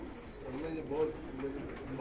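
Pigeons coo softly in a low, continuous murmur, a faint flock sound with no clear individual calls standing out.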